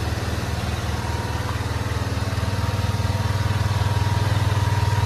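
A cheap, free Chinese scooter's small engine drones with a steady, pulsing buzz, loud and close throughout with no voices.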